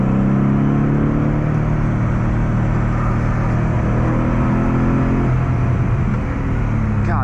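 A BMW E30 fitted with an M60 V8 accelerates hard on a mountain touge road, its loud, close engine roar holding steady before rising sharply in pitch as it pulls through the gears.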